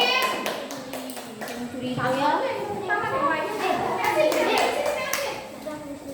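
Children in a Year 5 classroom clap for a classmate, a scattered burst of small hands at moderate distance, mixed in with children's voices chattering over it.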